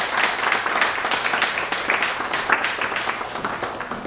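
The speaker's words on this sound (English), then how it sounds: "Let us applaud them." Audience at a school enrollment ceremony applauding, a dense, steady wash of many hands clapping close by for the whole stretch, with no pause and no voices standing out.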